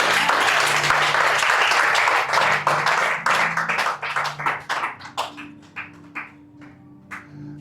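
A church congregation claps and applauds for Jesus during a service, the applause dense and full at first, then thinning into scattered, uneven claps that fade toward the end.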